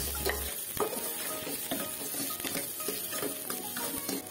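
Garlic and onion sautéing in hot oil in a pan, with a steady close sizzle and repeated stirring scrapes and clicks throughout, no voices.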